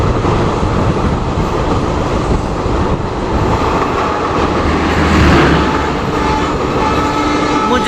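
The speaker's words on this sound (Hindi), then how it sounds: "मुजफ्फरपुर आनंद विहार गरीब रथ को हमारी ट्रेन बगहा में क्रॉस करते हुए" A Holi festival special train from New Delhi to Darbhanga running at speed in Bihar while crossing another train, with a loud continuous rumble and rattle of wheels and wagons up close.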